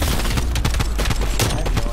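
A shooter game turret firing continuously, a dense loud stream of rapid shots with heavier thumps mixed in, filling the whole stretch.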